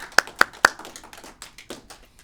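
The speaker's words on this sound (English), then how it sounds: "So, again, another applause to you guys." A small audience at a business talk claps briefly: three sharp, close hand claps followed by a few softer scattered ones trailing off.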